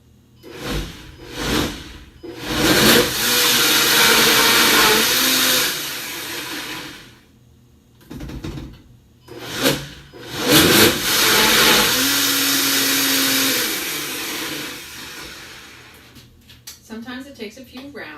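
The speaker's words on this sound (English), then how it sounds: "Sometimes you need a bigger blender pitcher. And like I said, if you have a Vitamix," A Vitamix blender whirs loudly through a holiday recipe in long sustained bursts, stopping and restarting several times as the pitcher contents are pushed down, with brief talk in the pauses.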